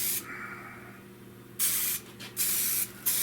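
Spray can of POR-15 paint hissing in three bursts, the first long and steady, then two shorter blasts, close and loud over a faint background hum.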